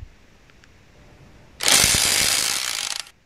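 An 18V cordless impact wrench loosens a bolt tightened to 100 Nm. After a quiet start, a loud, dense rattling hammer burst lasts about a second and a half, then cuts off.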